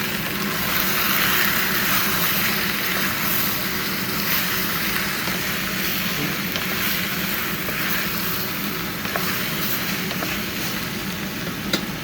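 Chicken fries in a pan after turmeric and salt go in, the kale chicken dish giving off a steady, dense sizzle that runs unbroken and fairly loud, with no voices over it.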